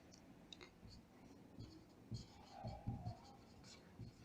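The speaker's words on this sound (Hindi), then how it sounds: "चलिए लिखते हैं" A pen writes out a determinant math solution, soft scratchy strokes in short irregular bursts, close but faint under a constant room hiss.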